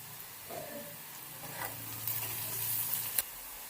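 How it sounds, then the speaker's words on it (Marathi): Onion sautés in a pan with salt and asafoetida, giving a quiet steady sizzle with a few soft stirring scrapes near the end. "आपला कांदा हा सोनेरी कलरवर परतून झालेला आहे"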